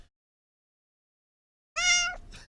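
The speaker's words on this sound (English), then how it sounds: "And she says, meow." A cat gives a single clear, close meow after a long silence, followed by a brief rustle of handling.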